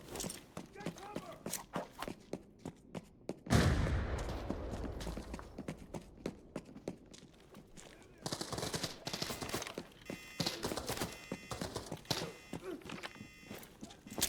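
A Vector submachine gun fires in Arena Breakout in rapid sharp bursts, with one heavy loud blast early on, amid footsteps and gear clatter while players talk throughout.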